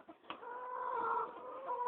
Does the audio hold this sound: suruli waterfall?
no